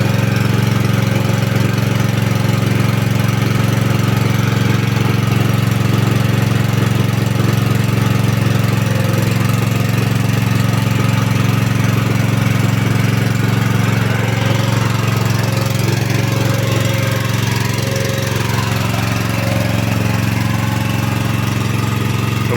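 A small engine runs steadily on a homemade motorized land-working platform fitted with a tiller, giving a loud continuous close-up drone with a mechanical knock and occasional squeal, and no speech.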